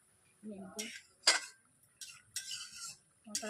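A metal spoon stirs bhindi masala in a pan, giving a few clinking scrapes and knocks spaced irregularly, with brief low vocal sounds between them.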